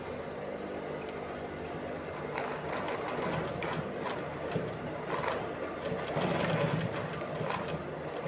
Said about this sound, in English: So I'm just going to stitch.